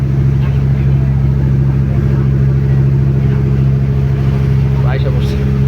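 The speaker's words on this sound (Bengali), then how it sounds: "জাহাজ, এই দেখেন জাহাজ" A loud, steady low engine drone on the water, heard while travelling by boat toward Kural Island, continuous and close for the whole stretch with faint voices beneath.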